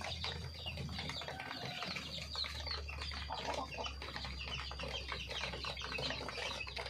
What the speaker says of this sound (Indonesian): jago Arab